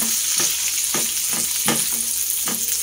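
Bitter gourd (ampalaya) tossed into a hot pan of softening tomatoes, garlic and onion sizzles steadily, with a handful of spaced scraping stirs, close and loud, with no talking.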